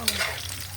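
Eggplant frying in a hot oiled pan gives a short burst of spattering sizzle, with a sharp pop near the start and a softer crackle fading after.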